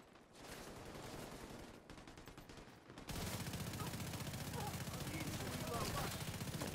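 Rapid bursts of gunfire from the video game The Division 2 crackle continuously, growing louder and denser halfway through, with a steady mix of shots and background game noise.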